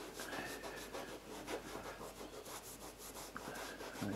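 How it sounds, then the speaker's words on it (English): A cloth rubs leather cleaner into a leather safety boot, making a steady, soft scrubbing swish in repeated strokes, close and continuous throughout with no talking. "we're going to apply it onto the boot using the cloth. Just rub it in."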